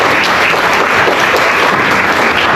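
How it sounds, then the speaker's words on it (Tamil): An audience applauds at a Tamil debate in Ireland: dense, steady, loud clapping that fills the whole stretch without a break, with no speech over it. "அவங்களுக்கு ஒரு கைத்தட்டுதல் கொடுத்தாங்க"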